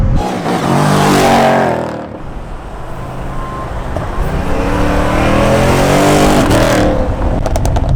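A Shelby Super Snake Mustang rated at 825 hp revs loudly up close, with bursts of exhaust pops and crackle as the throttle lifts, rising again after a brief dip.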